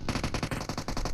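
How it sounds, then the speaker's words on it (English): Rapid automatic gunfire in the mobile battle-royale game PUBG Mobile during a competitive esports match, a steady stream of about a dozen evenly spaced shots filling the whole moment at moderate distance. "Looks like multiple fights happening elsewhere, including Yoodo Alliance shooting from afar."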